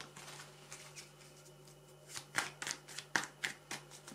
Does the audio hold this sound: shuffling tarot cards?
yes